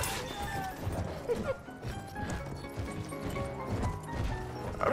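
Rapid hoofbeats of a horse in Battlefield 1 thud beneath a cluttered game mix, with faint whinnies and occasional impacts breaking through.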